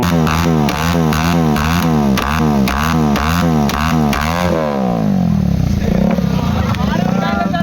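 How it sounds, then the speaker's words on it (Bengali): A motorbike revs hard in repeated throttle bursts from its silencer pipe, which shoots flames, loud and close with a steady rhythmic roar before easing into a rougher idle; voices chatter in the background. "একটা ছেলে এখানে বাইক নিয়ে সাইলেন্সার পাইপ দিয়ে আগুন বের করছে"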